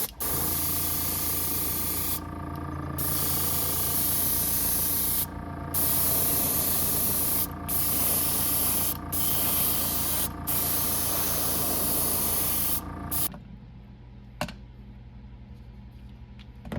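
Silver scales being paint-sprayed onto a wooden jerkbait fishing lure: a steady, loud spray hiss broken by several brief pauses, ending abruptly near the end and leaving a quiet hum.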